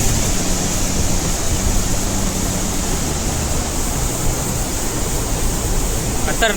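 Water rushing over a dam at Khorninko in Lanja, Ratnagiri, a loud, steady broadband roar that fills the whole stretch with no breaks.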